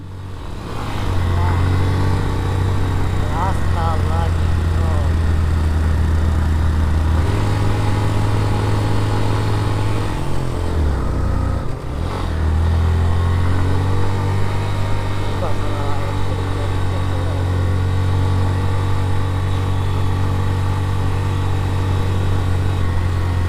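A motorcycle labours up a steep hill road in first gear on a bike tour from Chittagong to Sajek, its engine droning loud and steady with a brief dip midway while people talk over it.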